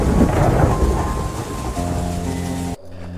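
A thunderstorm sound effect for a horror cartoon plays close and loud. A heavy rumble and a steady rain wash fill the opening, then fade into a lower tonal drone before a sudden cutoff.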